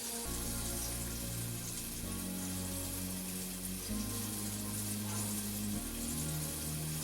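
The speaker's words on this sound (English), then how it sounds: "Sizzling good now." Steady, dense sizzling of jambalaya ingredients frying in a pan, continuous throughout, with a low steady hum or tone shifting beneath it.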